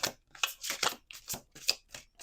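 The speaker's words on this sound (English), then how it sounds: "Let's do 2 more shuffles here." Quick bursts of cards riffling and snapping together, several short shuffles in a row with brief pauses between, close and fairly quiet.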